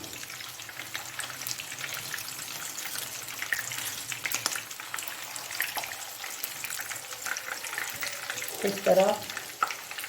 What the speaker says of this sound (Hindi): अब इनको हम तकरीबन 2-3 मिनट इस तरह से फ्राई करेंगे